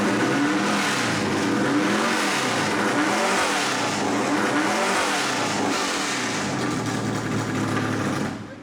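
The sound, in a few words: NASCAR race car engine revving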